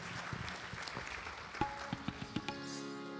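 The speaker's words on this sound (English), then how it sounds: "Please give them a round of applause, everyone." Audience applause at a Friday night satsang birthday celebration, fairly quiet and brief, with scattered claps building into a short burst of clapping.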